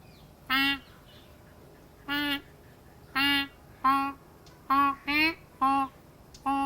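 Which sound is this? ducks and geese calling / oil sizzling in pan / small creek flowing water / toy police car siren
ducks and geese calling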